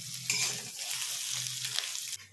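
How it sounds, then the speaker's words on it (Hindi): Soya chunks frying in hot oil, a loud, close, continuous sizzle with stirring and scraping through it, easing off abruptly at the end. "सोया बड़ी को गोल्डन ब्राउन होने तक भूनेंगे।"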